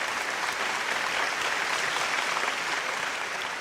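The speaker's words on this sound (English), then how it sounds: "give yourselves one more round of applause" A round of applause from an audience at a science and engineering fair award ceremony, a steady, moderately faint clapping wash with no talk.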